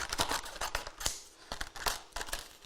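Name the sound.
trimming Centura Pearl card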